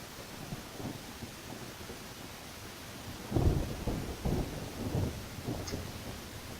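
Rain and thunder in the Neverwinter Nights game: a constant hiss of rainfall, with a deep thunder rumble rolling in partway through and slowly fading under the downpour.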